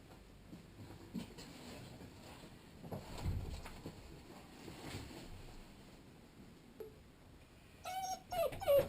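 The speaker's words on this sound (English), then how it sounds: "Well, that sounds like a very big doggy." A wire-haired dachshund puppy gives faint, high whimpering whines, mostly bunched near the end, over quiet low rumbling background noise.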